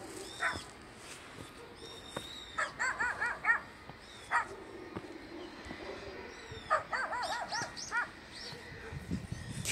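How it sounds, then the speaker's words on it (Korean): Outdoors, a dog barks in scattered bursts of sharp yips and barks at some distance, while people talk faintly in the background. "개가 짖네."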